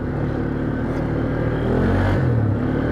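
A Polaris Sportsman 500 ATV with a Fuji engine runs close by in a steady, loud, droning idle with a slight rise in revs, and no talk.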